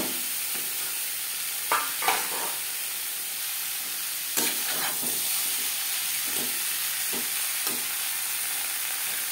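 Boiled jackfruit being stirred into fried spice paste in a frying pan for a no-garlic, no-onion curry; a steady hiss of frying with intermittent scraping strokes of the spoon, close and fairly loud.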